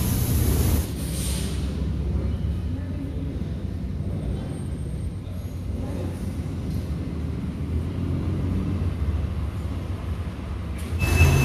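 A large passenger train rumbles steadily at a big station in the United States, a low continuous roar with faint hissing that lasts throughout, close by and heard without talk.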